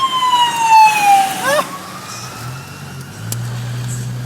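An ambulance siren wails past a vehicle on a road during a tornado outbreak, sweeping and dropping in pitch as it closes in from behind, loud and near, then fading under a low steady engine drone.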